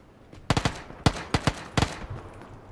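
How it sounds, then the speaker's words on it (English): Gunfire in the battle royale game PlayerUnknown's Battlegrounds: three quick bursts of two or three sharp shots each, close and loud, with short quiet gaps between. "Yo, more gunshots right here."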